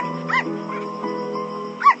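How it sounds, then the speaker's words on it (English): A litter of newborn puppies whimpering and yipping up close, thin high cries in short bursts with a louder yelp at the end. "they find a litter of newborn puppies"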